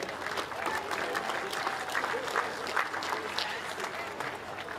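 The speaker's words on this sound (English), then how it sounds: "let's give a round of applause for our community" An audience at an elementary school ribbon-cutting ceremony claps for the community, a steady moderate round of applause heard at middle distance with faint crowd murmur mixed in.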